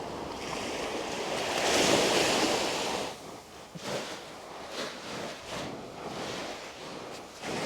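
Ocean waves break on the shore with a loud rushing surge, then wash and hiss back more softly in uneven swells, with some wind buffeting the microphone and no talking.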